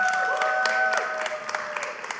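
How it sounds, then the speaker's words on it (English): An audience at an Atlanta club event applauds a guest, a short run of steady clapping with sharp individual claps, while a sustained tone hums underneath. "Give me a round of applause for him"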